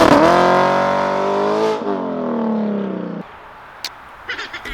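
An Audi R8 sports car engine roars loudly up close, revving high then easing to a lower sustained drone before cutting off, followed by a few faint clicks and pops in near silence.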